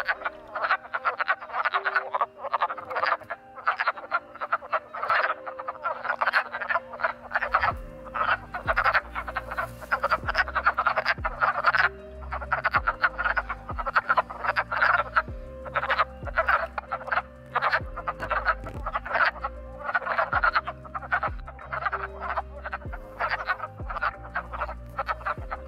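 Wood frogs in a woodland breeding pool give a dense, continuous chorus of short clucking croaks, many calls overlapping at steady loudness with a low throbbing hum underneath.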